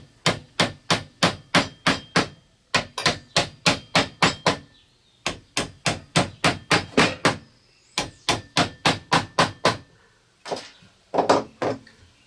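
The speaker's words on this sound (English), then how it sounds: "Now I'm just going to tap some screws." A hammer taps screws into wood for a shelf build, giving steady rapid series of sharp, close knocks in several runs, with short gaps between groups.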